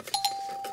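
A bell sound effect rings as two quick bright strikes, then a single clear tone holds steadily and fades out.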